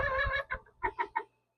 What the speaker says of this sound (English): we start getting some squeaks on the inside after about that week